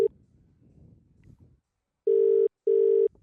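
Outgoing phone call ringback: two long, steady electronic ring tones with a short gap between them, following a stretch of faint low background murmur.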